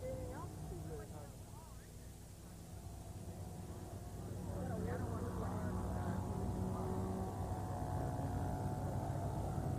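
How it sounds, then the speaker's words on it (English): A buzzing four-stroke model aircraft engine drones steadily at a distance, its pitch wavering as it passes, growing somewhat louder partway through. "The 4-stroke engine with its lower RPM, realistic sound, and its torque characteristics"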